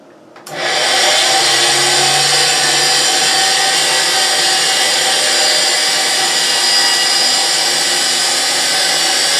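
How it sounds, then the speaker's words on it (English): A grinder starts up and runs loudly and steadily for several seconds, a dense continuous motor whine with no voices. "I put a little bit in at a time, because otherwise it'll slow the grinder down like terribly"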